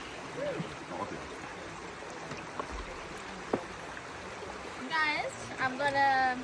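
River water runs softly and continuously while rafting on the Martha Brae River near Montego Bay, Jamaica, with people talking over it and a few louder splashes near the end.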